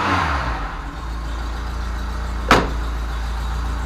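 An old Ford Cortina engine idles steadily up close, a constant low throbbing hum with a single sharp click partway through.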